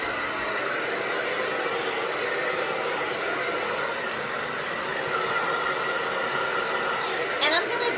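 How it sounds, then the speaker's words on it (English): A steady, loud hair dryer blows continuously while hair is dried with the head flipped upside down, its even whooshing roar filling the whole span. "I blow dry my hair while I'm bent over like this"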